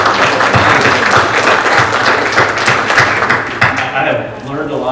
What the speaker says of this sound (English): offer a round of applause and appreciation for the folks that put on this amazing conference.